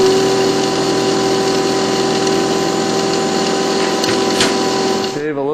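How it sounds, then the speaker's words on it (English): A Zamboni ice resurfacer's dump tank runs with a vertical auger feeding shaved ice into it, making a loud, steady mechanical drone that shifts and drops near the end. "Watch the dump tank in action."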